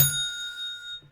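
A single bright bicycle-style bell ding used as a subscribe-button sound effect, sharp strike with a ringing tone that decays over about a second, alone and clear.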